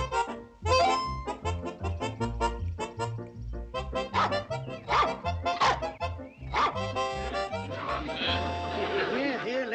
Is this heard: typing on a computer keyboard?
no